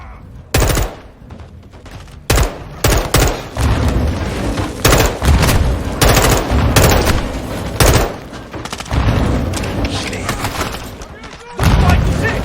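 Loud video game gunfire from Call of Duty Modern Warfare 2 on PlayStation 5: rapid automatic bursts and sharp single shots with booming impacts, separated by short quiet gaps, with in-game voices shouting between the volleys.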